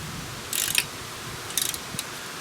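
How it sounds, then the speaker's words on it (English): Ratchet socket wrench clicking in short bursts while tightening exhaust nuts and bolts on a Honda Goldwing motorcycle, two quick ratcheting runs and a lone click, close and fairly quiet against faint background hiss. "Now I can tighten all the nuts and bolts."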